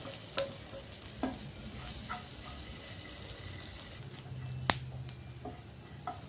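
Small chopped potato pieces sizzle quietly in a pan for aval upma, with a steady low frying hiss, a few sharp stirring clicks and scrapes, and one louder knock near the end; no talk.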